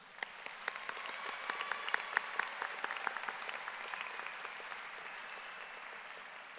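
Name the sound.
applause for graduating high school students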